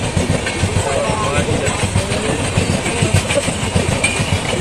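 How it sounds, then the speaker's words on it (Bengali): A local train rumbles past nearby with a rhythmic clickety-clack of wheels on the rails. A voice is heard faintly under the loud, steady rolling. "সেদিকে লোকালও চলে গেল, এও চলে গেছে, মা ট্রেন চলে গেছে।"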